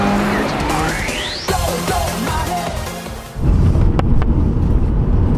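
A Subaru driving on the way to Japfest 2017, with a loud, steady engine roar and a rising whine, then a heavier low rumble near the end. No voices.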